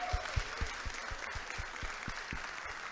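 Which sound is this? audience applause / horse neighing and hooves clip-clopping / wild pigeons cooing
audience applause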